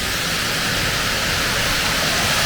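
Steady, loud rushing roar of the partly man-made Silaphet waterfall in Nan, Thailand, a dense broadband wash with no breaks and no voices.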